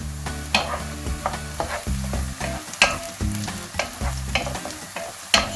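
Peppers and softened carrots fry in a pan for a zucchini and rice dish, giving a steady sizzle broken by sharp spatula scrapes and stirs every second or so, with background music underneath.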